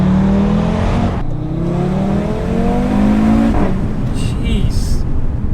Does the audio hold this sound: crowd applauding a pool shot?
no